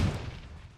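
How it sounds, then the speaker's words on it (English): A grenade goes off in a video game, a single booming blast with a quickly fading rumble, close and moderately loud. "And that grenade was sent perfectly."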